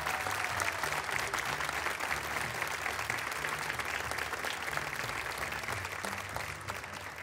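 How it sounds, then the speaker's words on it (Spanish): Audience applause for seven singers on a Canary Islands folk music TV show, steady dense clapping sustained throughout and easing slightly toward the end, with no talk over it. "que suene fuerte ese aplauso."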